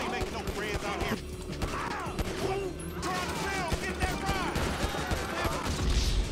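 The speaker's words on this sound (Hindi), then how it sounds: "सीधा गोली चला दी भाई।" Rapid bursts of gunfire in GTA V crackle and rattle continuously, with mechanical clatter and a voice talking underneath.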